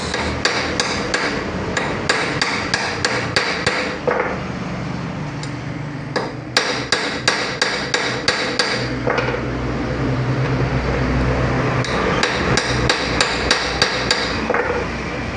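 Sharp metallic hammer blows strike a Honda automatic scooter's rear shock absorber nut in rapid bursts of repeated strikes, close and loud, with short pauses between volleys over a steady workshop hum.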